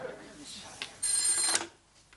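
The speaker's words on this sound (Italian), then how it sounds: "Sì, è la sveglia telefonica." A telephone rings with an early wake-up call, a bright electronic trill lasting under a second amid faint room noise.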